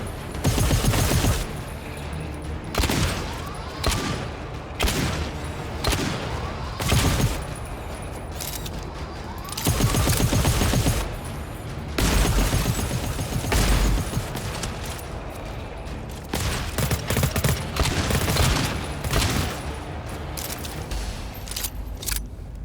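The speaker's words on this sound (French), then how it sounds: "j'ai l'impression que ta tourelle tire pas des masses" A sentry turret in the co-op shooter GTFO fires in dense, loud bursts of rapid gunfire, with short pauses between volleys, over more than twenty seconds of continuous combat noise.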